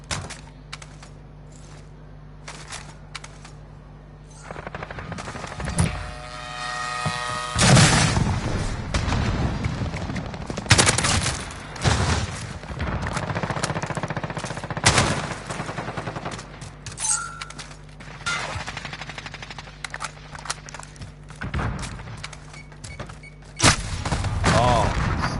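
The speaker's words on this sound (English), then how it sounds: "I do not know why people do not use the AK." Rapid automatic AK rifle gunfire in the video game Modern Warfare, with repeated bursts and booming shots across the whole stretch, loud and close, with other battlefield blasts.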